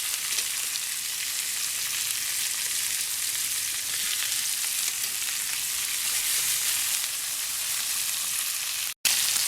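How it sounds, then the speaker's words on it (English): Meat frying in a pan with butter and a couple of garlic cloves, a loud, close, continuous bright sizzle that holds steady with only a brief break near the end. "So now we're gonna add butter, which is gonna increase the amount of liquid in the pan quite a lot, and a couple of cloves of garlic"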